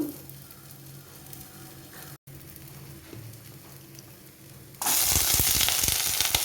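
Oil in a pan for an ivy gourd stir-fry gives a low, steady crackle, then bursts into a loud, dense sizzle partway through that carries on close up to the end.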